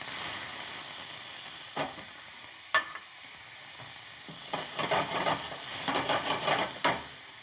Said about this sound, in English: In the same pan where we cook the scallopini, we go first with some chopped onions.